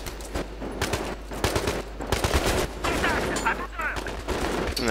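Rapid gunfire from a weapon in Battlefield 3, several sharp shots in quick bursts spread across the stretch, loud and close, with a voice talking between them.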